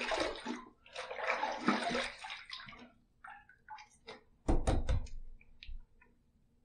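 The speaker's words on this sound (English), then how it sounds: "Let's rinse." A razor with a copper head and a Feather blade is rinsed under a running tap: a splashing gush of water for a few seconds, then scattered taps and knocks close by.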